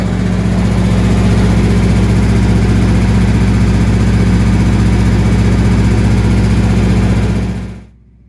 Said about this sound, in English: Fairly quiet running generator, and it is mounted in the rear of the trailer